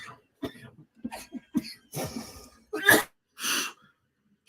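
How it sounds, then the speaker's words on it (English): A person coughing in a harsh fit: several short, sharp coughs in a loose series, close to the mic, ending in two stronger, breathy hacks. "This cough is killing me."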